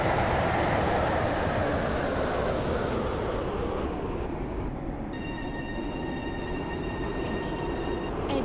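A four-coach train rumbles steadily with broad low noise as it arrives at a station, then a high-pitched brake squeal rings out over the rolling sound toward the end.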